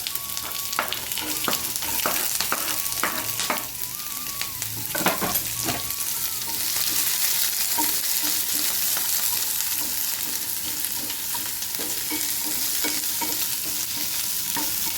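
Onion and green chilli sautéed with spices in a nonstick pan, with a loud continuous sizzle and frequent scraping and clinking of a spoon against the pan, no talking.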